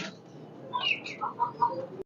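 Pigeons cooing close by, a short run of soft, throaty coos in quick succession, fairly quiet against a still background.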